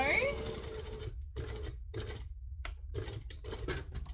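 Sewing machine stitching a zipper overlay into fabric, running in several short whirring bursts separated by brief pauses, close and steady, with a person talking over the opening part.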